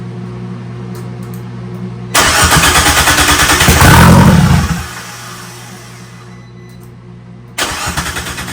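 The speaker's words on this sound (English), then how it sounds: "Let's see if it tries to start." A little Fiat fitted with a big turbo cranks on a first start attempt, a loud rhythmic chugging burst of a few seconds that swells then drops back to a steady hum, followed by a second short burst of cranking near the end.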